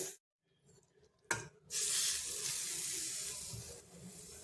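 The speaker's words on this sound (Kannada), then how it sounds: "ಇದಕ್ಕೆ ನೀರು ಹಾಕ್ತಾಯಿದ್ದೀನಿ" After a quiet start and a clunk, a steady hiss of water pours into a cooking pot for a couple of seconds.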